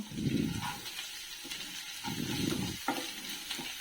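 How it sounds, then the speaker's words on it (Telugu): Spice powders frying in oil for a spinach and egg dish, a steady close sizzle broken by repeated scraping stirs of a spoon in the pan, with no talking. "ఈ పొళ్ళు ఆయిల్లో వేయించుకుంటున్నాను"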